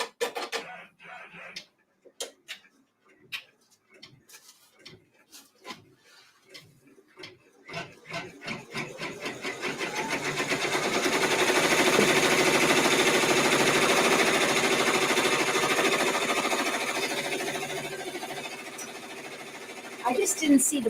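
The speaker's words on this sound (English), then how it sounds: "It's stitching out the placement lines now for all of the applique." A multi-needle embroidery machine stitches placement lines for quilt applique, starting with sparse ticking stitches that build into a steady rapid mechanical chatter lasting several seconds, with a person talking over the opening.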